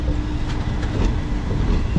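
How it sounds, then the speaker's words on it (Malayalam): Mangalore–Coimbatore Intercity Superfast train rushing past on the opposite track, a steady loud low rumble of wheels and carriages heard from a moving train, with no talk. "അപ്പോൾ നമ്മൾ ഓപ്പോസിറ്റ് വരുന്നത് മംഗലാപുരത്ത് നിന്ന് കോയമ്പത്തൂരേക്ക് പോകുന്ന ഇൻ്റർസിറ്റി സൂപ്പർ ഫാസ്റ്റ് ആണ് കേട്ടോ"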